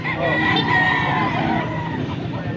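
A bullstag gamecock crows in one drawn-out call near the microphone, with a voice talking underneath and faint background noise.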